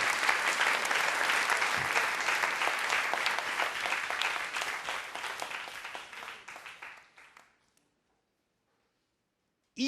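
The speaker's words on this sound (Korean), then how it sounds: "박수 좀 쳐봐" A lecture-hall audience claps together in a loud, even burst that fades out over several seconds and then falls silent.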